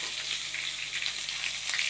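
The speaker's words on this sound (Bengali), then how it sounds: "এবারে দেবো আমি শুকনো লঙ্কা ফোড়ন।" Dried red chilies and black cumin seeds sizzle in hot oil in a pan, a steady bright crackling hiss close up with small pops, no talking.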